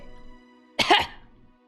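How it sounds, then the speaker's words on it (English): One short, sharp cough bursts out alone after a stretch of quiet, soft tonal background in an anime scene. "Please cough if you can hear me."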